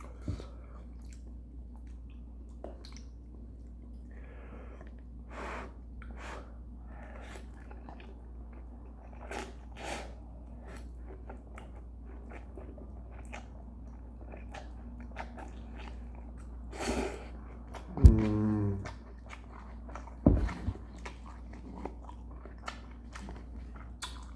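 Close-up chewing and biting of spicy carbonara buldak fire noodles, with soft wet mastication, occasional sharper bites and a few louder slurping bursts near the end, no talking.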